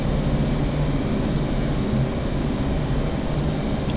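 Jet aircraft engine in a flight simulator game during air-to-air refueling, a steady loud droning roar with constant low rumble and no clear change in pitch, alone without talk.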